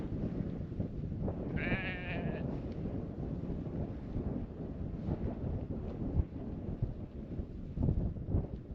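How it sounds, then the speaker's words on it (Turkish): Steady low rumbling wind buffeting the microphone throughout, with a brief bleating ram call early on and faint voices underneath. "Rüzgar esiyor."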